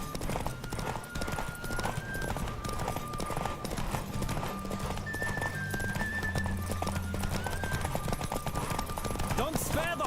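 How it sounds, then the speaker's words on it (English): A horse gallops in The Witcher 3 with a fast, steady clip-clop of hooves on the ground, a loud close neigh near the end, and tonal music and talk running underneath. "Don't spare the horse!"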